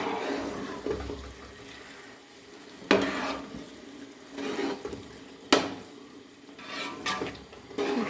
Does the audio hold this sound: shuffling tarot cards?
no